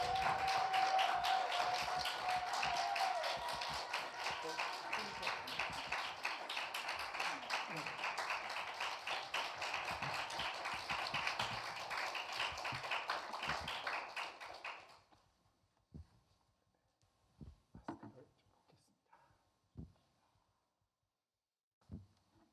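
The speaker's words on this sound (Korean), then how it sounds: "우리 박수로 모시겠습니다." A church audience breaks into sustained broadband applause welcoming a visiting missionary speaker from Japan to the pulpit, steady and dense for about fifteen seconds before cutting off, followed by a few scattered isolated claps and light taps in a quieter room.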